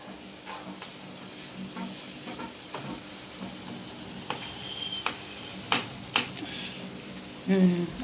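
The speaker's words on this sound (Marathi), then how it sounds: "आता मस्त तेल मसाला आता वेगळं सुटलंय. तेल सुटलंय मसाल्याला." Masala sizzles in hot oil in a home kitchen pan, a soft steady fry with scattered crackles and a few sharp clinks of a utensil against the pan, heard close with no talking.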